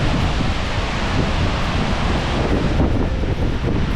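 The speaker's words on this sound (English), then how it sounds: "it was incredible to be so close to this amazing waterfall" Waterfall in Iceland roaring at very close range, a dense, loud, unbroken rush of water and spray that fills the whole clip with no voices.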